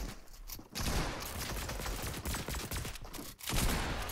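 Rapid bursts of gunfire from a Fortnite match crackle in dense volleys, loud and close, with a couple of brief pauses between the streams of shots.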